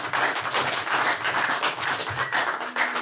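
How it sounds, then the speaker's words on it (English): Brief burst of applause from a studio audience after a guitar interview, a dense patter of many hands clapping, close and fairly loud, running steadily for a few seconds with a faint tone near the end. "I think you can have a quick round of applause if that's okay, Brian."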